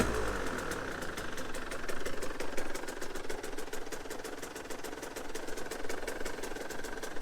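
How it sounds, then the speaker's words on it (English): A 2022 Husqvarna TE150 dirt bike engine idles at a lowered idle after adjustment, a steady, close, rapid putter with even pulses that continues throughout, alone without talk. "We got the idle turned down."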